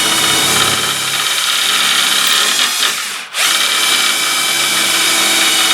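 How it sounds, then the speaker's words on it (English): Power drill boring cabinet pull holes through a jig, a loud close whining drone held for several seconds with a brief dip as the bit breaks through, then spinning on steadily, no voices. "we're going to just drill out the other side at the same time here"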